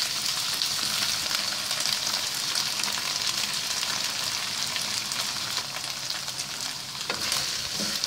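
Tomato sauce for beef kaldereta being stirred in a frying pan, a steady loud sizzle running throughout with faint scraping from the utensil, no voices.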